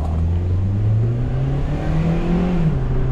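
Engine of a 2013 Hyundai Elantra with an engine light problem revving hard toward the rev limit, loud steady drone with pitch climbing and holding high, no talk.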